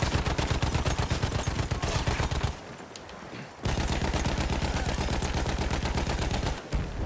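Anti-aircraft gun firing in the Battlefield 1 video game, a loud rapid rhythmic stream of heavy shots, briefly pausing before resuming at full intensity.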